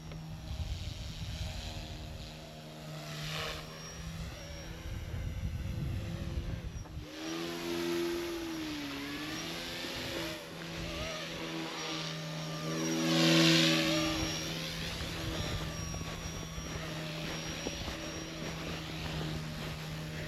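A radio-controlled model helicopter flies steadily, its buzzing rotor and motor whine holding a constant drone while the pitch bends up and down in smooth sweeps as it maneuvers, with a brief swell near the middle.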